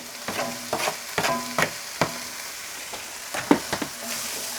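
Vegetables for a vegetarian chilli being stirred in a frying pan, a series of close, rhythmic scraping strokes over a soft sizzle, with no talking.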